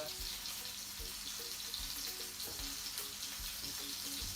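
Hissing, crackling fish frying in a pan, with steady broadband sizzle and scattered small pops, continuous and fairly close throughout.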